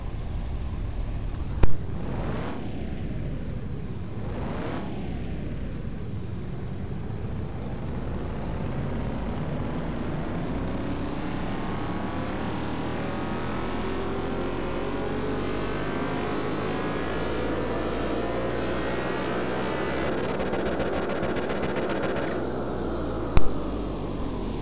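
A twin-turbo 2016 BMW M4 GTS, tuned past 800 horsepower, makes a dyno pull in a car-mechanic video game. The engine climbs steadily from low rumble to a loud, high sustained roar for about twenty seconds, bracketed by two sharp clicks.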